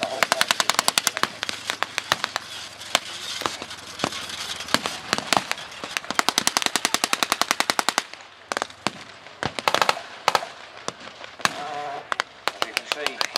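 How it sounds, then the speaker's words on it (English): Blank gunfire from troops at a WWII battle reenactment, with dense automatic bursts and rapid single shots crackling almost nonstop, loud and close, sparser toward the end. "Full of Allied troops firing back into the main German defensive position."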